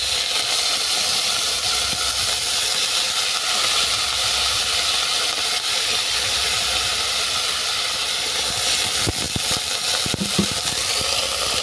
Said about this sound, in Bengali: তেল গরম হয়ে গেছে, এর মধ্যে আপেলটাকে তুলে দিচ্ছি।